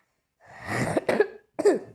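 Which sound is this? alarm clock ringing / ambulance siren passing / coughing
coughing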